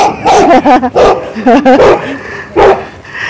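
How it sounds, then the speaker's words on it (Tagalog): An excited neighbor's dog greeted in the morning, giving a run of high yips, whines and short barks in quick bursts, close and loud, with a pause before a final yelp. "Super excited yung aso."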